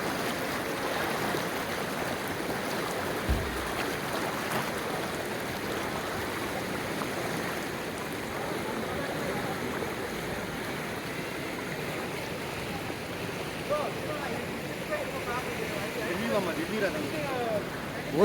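A flooded stream in Khammam rushes in a constant, close roar of churning water, with people talking faintly over it.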